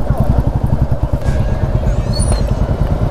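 A motorcycle engine idles and putters close by in a steady low rhythmic chug while the bike is being parked, with faint clatter around it.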